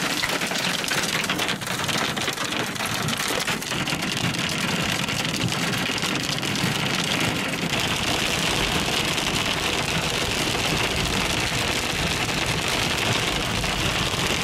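Storm near Windellama with heavy rain and hail, a dense, loud, steady hiss of drops drumming on a surface, continuous throughout with no speech.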